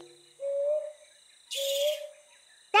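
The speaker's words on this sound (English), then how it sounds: "We can pick up the mama owl's call with this." A mother brown hawk-owl calls in a cartoon forest: two separate, clear, mellow hoots, each about half a second long, with a faint background hum and a short sound cut off at the end.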